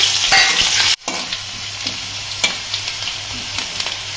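Onions fry in a pan with a loud, bright sizzle that drops sharply after a second, as if stirred or moved, then carries on as a softer hiss dotted with small pops.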